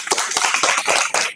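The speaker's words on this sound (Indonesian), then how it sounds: "Tepuk tangan untuk kelompok 1." A small classroom group of students claps briefly in applause, a dense burst of quick overlapping hand claps at close range lasting just over a second, with no talking.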